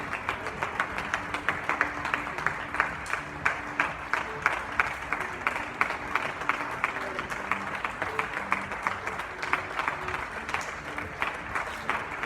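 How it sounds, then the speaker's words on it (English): Neighbours applaud from balconies across the Chamberí district of Madrid, a steady wash of many hands clapping at a distance, echoing between the buildings and holding even and sustained without pause. "So effectively there are claps everywhere"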